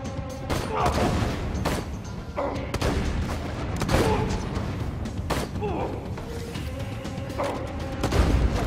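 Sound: sniper rifle shots in the video game Borderlands 2

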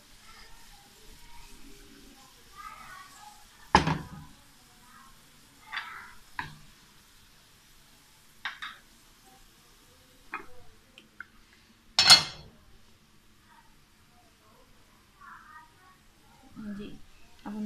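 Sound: adding browned onions into beef nihari in the pot

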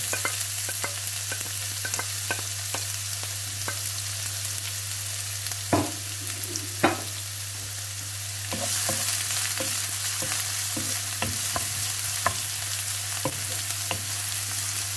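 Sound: onions and green chilies frying and being stirred

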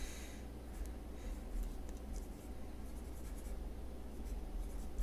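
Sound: writing a sentence by hand

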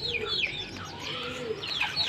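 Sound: pet pigeons in their enclosure

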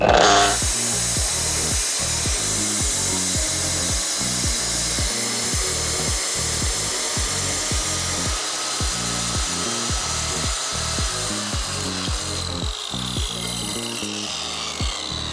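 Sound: Dnipro-M GC-15 wall chaser cutting a concrete block

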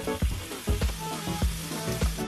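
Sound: turkey steaks frying in a pan

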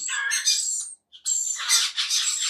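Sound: rainbow lorikeet squawking

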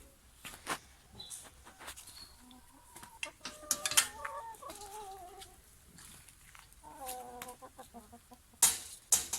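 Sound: chickens clucking

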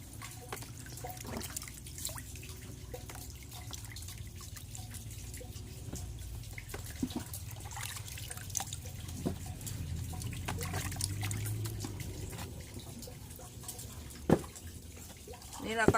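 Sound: water running while washing bamboo shoots

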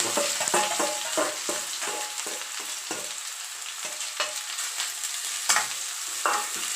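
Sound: onions frying and stirred in pan for curry

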